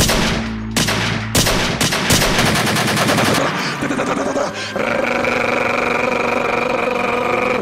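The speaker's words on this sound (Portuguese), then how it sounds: "Muitos tiros." Loud bursts of rapid gunfire crackle and stutter, then give way to a sustained mechanical drone with a few scattered shots.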